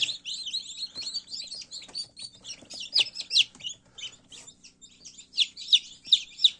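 Newly hatched chicks peep in an incubator, a dense run of high, rapid cheeps from several birds, close and fairly loud, with no talk.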